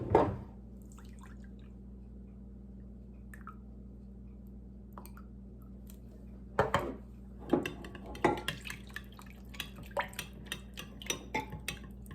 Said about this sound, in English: we're going to add about 1/2 cup